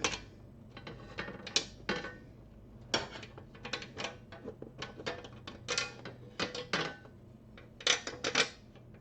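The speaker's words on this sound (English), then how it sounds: "take the nut and screw it through the bolt." Nut being threaded onto a bolt through the slot of a Honda Goldwing belly pan, giving close, irregular metallic clicks and scrapes with small taps, no talking.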